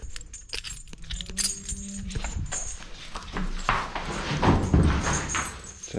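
Cows being unclipped from chain carabiners and let out in a farm barn, with scattered hoof steps, knocks and rattling chain or metal clips at close range, the noises overlapping irregularly without clear speech.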